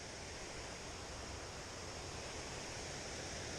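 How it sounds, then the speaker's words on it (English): Creek water flowing through woods on a backpacking trail in Algonquin Provincial Park, Ontario, a steady, dense rush with no pauses, fairly quiet and heard alone. "This is Head Creek."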